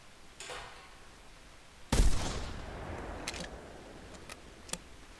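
A single loud rifle shot in theHunter Classic cracks out sharply with a decaying outdoor echo, followed by a few faint clicks against quiet ambient background.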